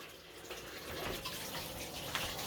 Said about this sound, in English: Probably that water that I'm filling up over here.